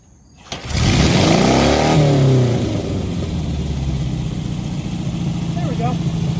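A motorcycle fitted with a VW car engine cranks, catches and revs loudly up close, its pitch sweeping upward before settling into a rough, steady idle.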